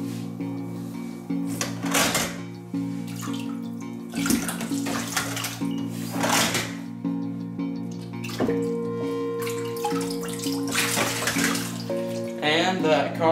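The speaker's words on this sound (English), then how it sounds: "And that car has went in the water." A toy Hot Wheels car splashes into water at a splash-ride playset, with repeated sloshing and dripping water sounds over several seconds and a few plastic clacks; a voice talks intermittently.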